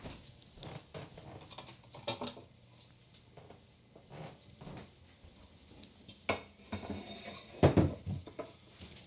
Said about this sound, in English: Now it's just a matter of scooping them into a muffin tin.